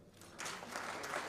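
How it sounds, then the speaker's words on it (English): Brief, faint applause from an audience at a speech on prudent investment at PrideInn Paradise, the clapping swelling after a quiet start and holding steady to the end. "Let's clap for them"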